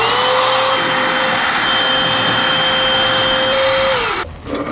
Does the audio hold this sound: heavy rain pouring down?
no